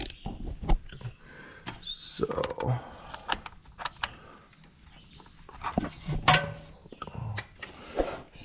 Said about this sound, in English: So now I'm gonna go grab my ratchet to show you how little space you have.